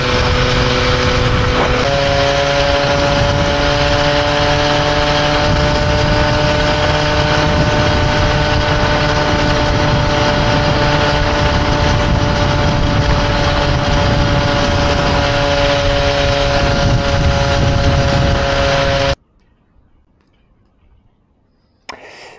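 A Peugeot 103 moped with a reed-valve intake, tuned with old-school techniques, ridden under steady load, its two-stroke engine making a loud continuous buzz with a faint rise in pitch before cutting off abruptly near the end, followed by quiet.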